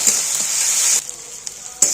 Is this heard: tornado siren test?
no